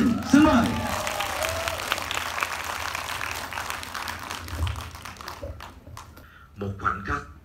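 Audience applause at the premiere of the Vietnamese feature film Đất Rừng Phương Nam, a loud burst of clapping that swells early, then thins and fades into scattered claps and a few voices near the end.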